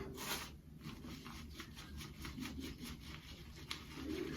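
A shaving brush swirls soap and water into a lather, giving a steady, close, wet bristly rubbing and swishing with rhythmic strokes throughout, no voices.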